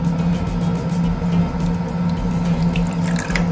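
Water is poured into a humidifier tank, giving a steady trickling, dripping flow that runs throughout at a loud, close level with no talking.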